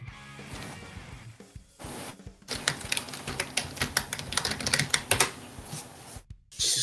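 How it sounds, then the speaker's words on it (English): Rapid typing on a computer keyboard during a Splatoon 3 stream, with dense, irregular key clacks that are quiet at first and then grow louder and busier, with brief pauses between runs. "Oh, I was typing."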